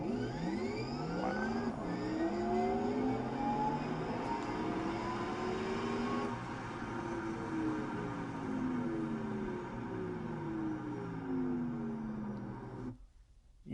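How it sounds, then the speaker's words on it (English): A 2025 Porsche Taycan electric car accelerates, its synthetic electronic drive sound rising and falling in sweeping tones over a low road hum before cutting off at the end. "one of the things I really like about the Taycan is how it sounds with the electronics"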